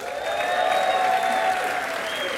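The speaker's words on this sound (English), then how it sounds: "So a big round of applause for TD Bank." Sustained applause from a reception crowd at a mayoral LGBT Pride Month event, honoring TD Bank; steady, dense clapping fills the room throughout, with a faint whistle-like tone riding above it.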